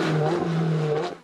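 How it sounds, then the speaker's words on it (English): Ferrari race cars lapping the Grand Prix course at Indianapolis Motor Speedway, a loud, sustained engine drone from a car passing close by, fading slightly at the end. "Ferraris were turning laps today on the Grand Prix course at Indianapolis Motor Speedway"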